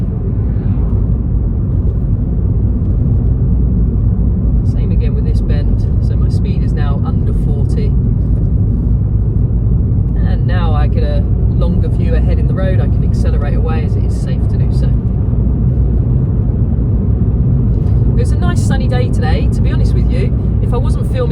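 A car's engine and road noise give a steady, loud rumble inside the cabin on a driving test route in Watford, while an instructor talks over it throughout.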